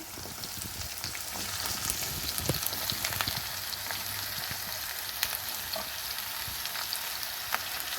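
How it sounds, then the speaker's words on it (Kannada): Sliced bitter gourd frying in oil with onion in a pan, a dense continuous crackling sizzle broken by sharp stirring clicks and scrapes, close and unbroken throughout. "ಹಾಗಲಕಾಯಿನೆಲ್ಲ ಚೆನ್ನಾಗಿ ಫ್ರೈ ಮಾಡ್ಕೋಬೇಕು ಎಣ್ಣೆಲೇ"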